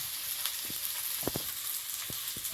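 Ginger and garlic paste sizzles as it goes into hot oil in a pan, a steady close frying hiss with a few soft stirring scrapes, no talk.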